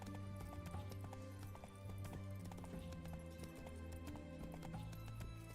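Roach the horse gallops in The Witcher 3, a rapid rhythmic clip-clop of hooves with an occasional whinny, steady and faint, under quiet game music.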